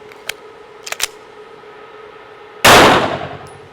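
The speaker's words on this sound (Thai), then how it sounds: "แล้วก็ยิงตัวนั้นอีกหนึ่งนัด" A pistol fired during a comparison of Zev OZ9 v2 compensators, a few light metallic clicks and clinks, then one sharp loud gunshot with a quickly decaying roar near the end.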